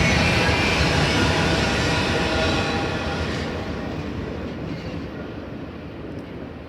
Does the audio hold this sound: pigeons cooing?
no